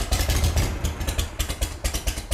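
Cone shovel bobber motorcycle engine, an original build in apparently healthy condition, idles close by with a steady lumpy low rumble and rhythmic exhaust pulses, punctuated by faint mechanical clatter.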